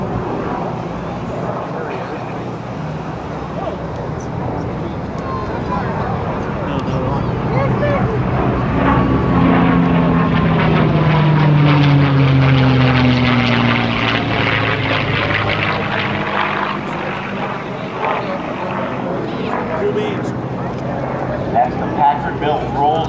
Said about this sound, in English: The P-47 overhead.